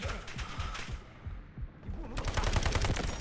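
QBZ rifle gunfire in the mobile shooter Delta Force: Hawk Ops, with rapid bursts of shots that pause briefly and then resume, fairly quiet and heard alone.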